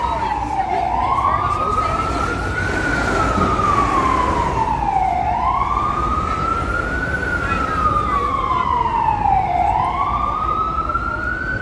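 Fire truck sirens on a New York City street wail in slow, repeating rising and falling sweeps, loud and close, over heavy traffic rumble.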